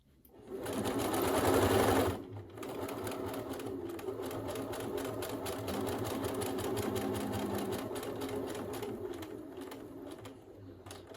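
A sewing machine stitches a fabric face mask at close range, with a louder burst at first and then a long steady whirring run. Soft bird cooing sits faintly in the background.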